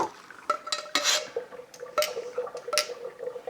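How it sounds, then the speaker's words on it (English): Cooked noodles are strained through a kitchen strainer for pho, with a run of sharp metallic clanks and rattles from the strainer and pot at an irregular pace, close and moderately loud. "We're gonna strain these off real quick."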